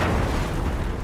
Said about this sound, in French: igniting airborne dust in a second, larger explosion